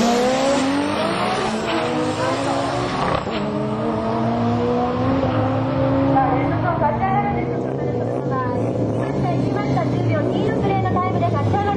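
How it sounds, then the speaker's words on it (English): A Red Zone drag car fitted with a T88 34D turbo roars past at a drag meet in Sendai, engine note climbing through gears loud and close before fading into a rougher, distant rumble, with voices faintly underneath. "Here's another Red Zone car running a T88 34D turbo."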